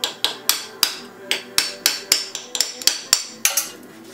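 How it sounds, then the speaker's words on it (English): A hammer strikes a big center punch to drive out an engine plug during an LS engine swap, with about a dozen sharp, close metallic blows in a steady rhythm. "Just using a big center punch and a hammer."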